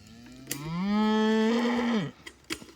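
A single drawn-out cow moo on a farm where cattle graze stockpiled pasture, loud and close, rising then holding steady before dropping off, followed by faint clicks and rustles.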